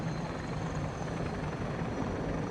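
A helicopter hovers while lifting a payload on a long cable line, its rotor producing a loud, steady, pulsing thump close by with no voices.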